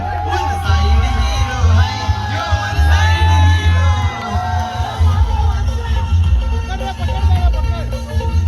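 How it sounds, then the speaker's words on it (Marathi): A crowd at a cricket tournament event in Navi Mumbai cheers and shouts, loud and continuous, with yells and whoops over amplified music and voices throughout. "जरा जोरदार टाळ्या होत्या त्या मित्रांनो"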